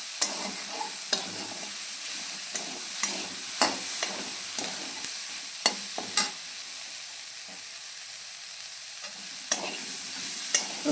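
A quiet, steady sizzle of a paste frying in a pan before chicken is added, broken by frequent sharp scraping taps of a spatula stirring.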